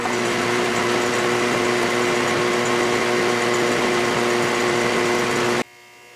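Center drilling a small brass plumb bob workpiece on a lathe: a steady, whining motor hum with a constant high machining hiss that continues for over five seconds, then drops to a quieter idle hum.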